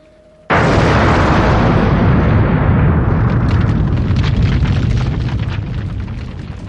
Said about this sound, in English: The minute particles of pyre left behind from Nomad's experiments and detonated by Robin's telesending had blown the cathedral apart